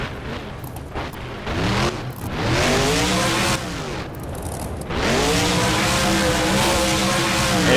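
A monster truck in BeamNG at the Sun Bowl freestyle revs hard, its loud engine climbing and falling in repeated sweeping pitch bends as it spins and jumps, with brief tire squeals and no talk.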